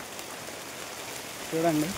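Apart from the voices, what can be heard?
heavy rain falling in forest village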